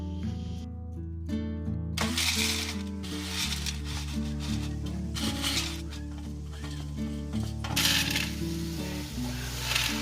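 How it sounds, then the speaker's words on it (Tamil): Large murukku crackles as it is broken by hand and tossed into a snack mixture, giving bursts of crunchy rustling and rattling over a steady background hiss, close by and without voices. "பெரிய முறுக்கையும் இதை நல்லா கொஞ்சம் உடச்சி விட்டுட்டு இதையும் வந்து சகன் மிட் பண்ணுறேன்"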